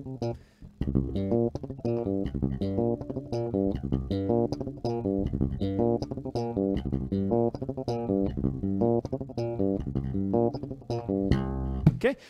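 A repeating bass guitar riff played with four-finger picking, fast, evenly articulated low notes cycling in a steady groove for several bars, close and dry with a couple of brief pauses.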